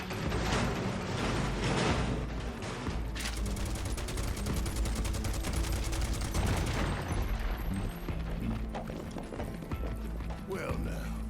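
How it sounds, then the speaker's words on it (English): Barret firing his gun arm in Final Fantasy VII Rebirth, bursts of rapid in-game gunfire layered with clanking mechanical effects and steady game sound throughout, loud and continuous. "Just play Red 13 and have Barrett shooting stuff"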